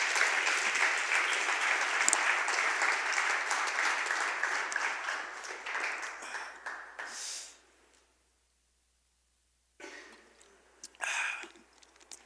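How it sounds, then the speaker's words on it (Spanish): A church congregation applauds loudly and steadily. The clapping fades out to near silence, then a few scattered claps return. "Vamos a darle un aplauso a Jesús."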